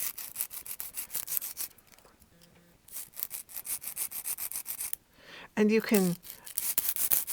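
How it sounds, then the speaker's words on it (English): A wooden lucet is sanded with steady, rhythmic scraping strokes that run close and loud through most of the stretch, pausing briefly midway, with a voice speaking over part of it. "Sorry for the sanding sound."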